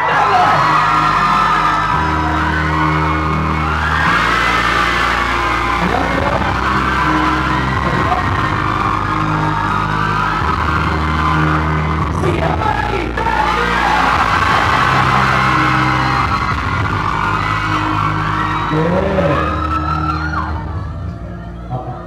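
Fans at a K-pop idol fan event in Thailand scream and cheer loudly and continuously over a pounding music track, the shrill crowd noise surging in waves before trailing off at the end.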